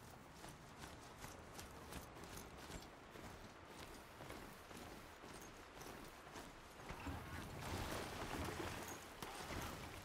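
Horse hooves in a video game: a faint, steady clip-clop of a trotting mount, growing a little louder toward the end over a quiet ambient bed.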